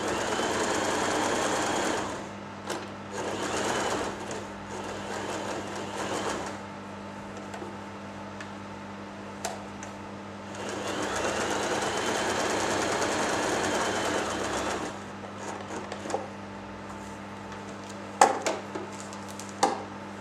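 Janome J3-18 sewing machine stitching fabric in bursts, with rapid mechanical needle clatter over a steady motor hum, starting and stopping several times, close and fairly loud.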